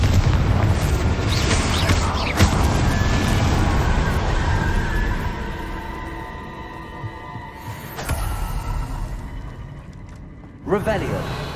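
A Confringo fire spell explosion in the Hogwarts Legacy video game, a loud rumbling boom that decays over several seconds, followed late by a sharp second blast, with a voice calling out in the game.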